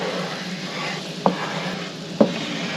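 Flour roux in very hot avocado oil crackles and sizzles steadily at close range, with two brief clinks of a spoon or pan standing out over the constant frying hiss.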